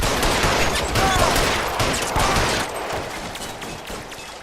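Dense, loud gunfire from a shooting section of L.A. Noire, a crackling fusillade of overlapping shots and bursts that runs throughout and slowly tails off toward the end.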